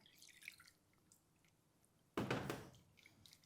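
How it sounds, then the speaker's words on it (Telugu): Water is poured into gram flour batter in a close, splashing burst lasting about a second, after a stretch of quiet with small scattered clicks. "మరి కొంచెం నీళ్ళు."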